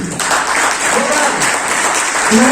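Loud, dense clapping from a seminar audience at a health company event in Satna, a continuous roar of hands with a voice rising over it toward the end.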